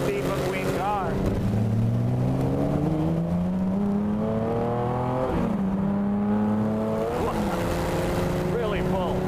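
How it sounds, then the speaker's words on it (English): A 1957 Jaguar XKSS sports car engine drones steadily while driving, its pitch climbing through gears with brief shifts; moderately loud and continuous, no talking. "Now this drives just like the Steve McQueen car."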